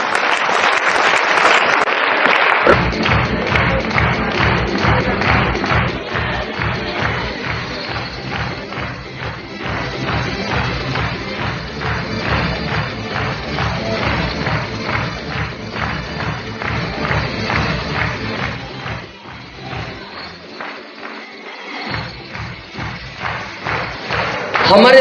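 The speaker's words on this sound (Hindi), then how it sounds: "जोरदार तालियां" A large audience at an RCM business event applauds loudly, with sustained dense clapping and occasional thumps and shuffles. A voice speaks over it near the start.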